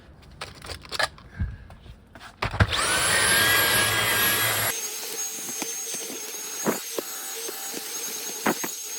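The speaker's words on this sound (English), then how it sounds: "We'll give this a vacuum" A vacuum cleaner runs on the carpet of a BMW E46 330i, a loud, steady whine that starts abruptly after scattered handling clatter, runs for about two seconds, then falls to a quieter hum with occasional knocks.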